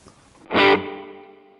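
Guitar through a darker spring reverb on a ToneX pedal: one distorted chord struck sharply, then ringing out as a long, gradually fading reverb tail.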